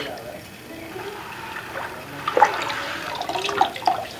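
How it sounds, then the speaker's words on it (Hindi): Paddy rice seeds being washed by hand in plain water after salt-water seed treatment in Khagaria, Bihar: soft sloshing and splashing that grows busier toward the end, with people talking throughout. "त ए में से धान निकाली के सादा पानी में"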